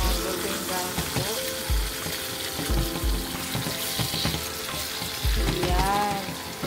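Marinated beef steak fries in a pan, a close sizzling hiss broken by a few bumps and scrapes as the meat is flipped, with no voices.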